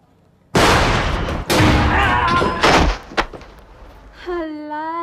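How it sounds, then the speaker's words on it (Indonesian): A chili firecracker bangs like a pistol shot, a sharp loud crack followed by further thumps and crackles, close and prominent, with a voice briefly heard at the end. "Halah, cuma petasan cabe."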